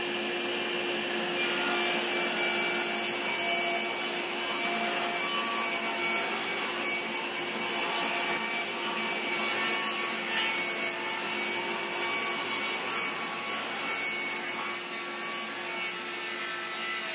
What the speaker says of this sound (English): we're going to rip these 1x6s